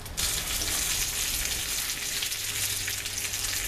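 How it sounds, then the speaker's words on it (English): Steady, loud sizzling and crackling of pork cutlets frying in a hot pan, continuous with no pauses. "Well, you can hear them sizzling."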